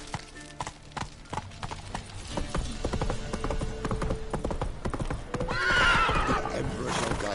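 Roach, a horse in a Witcher game, gallops with rapid hoofbeats and lets out a loud neigh near the end, set against game music and background ambience.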